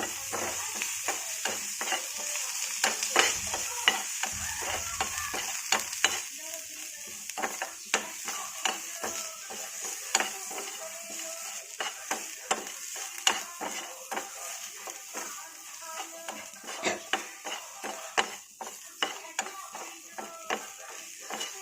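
Curry leaves, coriander and mint stir-fried in a pan for a chutney, with a steady sizzle under frequent sharp scrapes and clinks of a spoon against the pan, close and moderately loud, and no talking.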